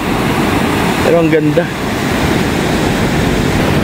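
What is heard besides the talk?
high ocean waves crashing on a beach in La Union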